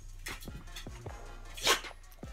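A dog makes short scuffling and barking sounds close by, several brief bursts over about two seconds, with one louder rustling burst near the end.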